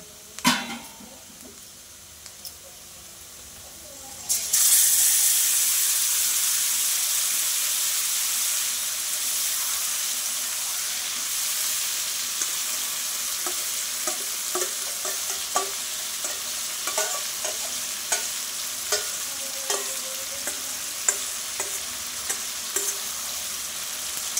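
After a few quiet seconds, a loud, steady sizzle of mutton frying over fried onions in a pan starts, with scraping clicks of stirring throughout.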